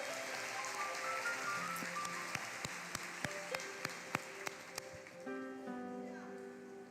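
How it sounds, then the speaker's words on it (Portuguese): A church congregation applauds a woman pastor being welcomed, a steady dense patter of clapping that rises and holds under sustained music and talk, with a few sharper hits standing out in the middle. "vamos aplaudi-la."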